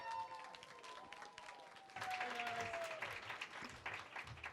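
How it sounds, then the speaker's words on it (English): Audience greeting a podcast guest with a warm round of applause, a fairly faint, steady crowd clapping that swells partway through, with some talk over it. "Give him a warm round of applause!"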